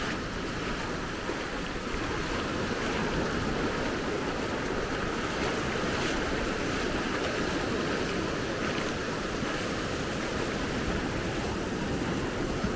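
Ocean surf at Maspalomas beach rolls in as a steady, loud, unbroken roar of breaking waves, with no voices.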